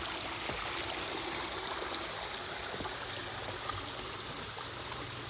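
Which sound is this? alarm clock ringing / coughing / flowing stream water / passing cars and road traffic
flowing stream water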